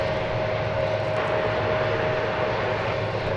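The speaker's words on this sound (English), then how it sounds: "An Airbus A319." An Airbus A319 jet airliner at DFW Airport produces a steady, loud engine roar with a sustained whine that holds evenly and uninterrupted, with no voices over it.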